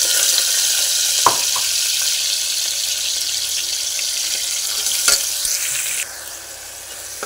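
Green masala roasting in hot oil, a steady bright sizzle throughout with a couple of clinks of a spoon against the pan, the sizzle dropping a little softer near the end.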